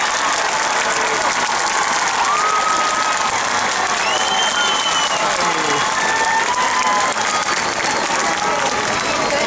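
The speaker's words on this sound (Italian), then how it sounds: "vai con l'applauso" Audience at a festival show in Marcon applauding, dense continuous clapping with cheering and whistles, steady and loud throughout.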